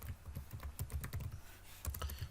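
A name typed on a computer keyboard, a quick run of close clicking keystrokes with a brief pause before a final burst, with no one speaking.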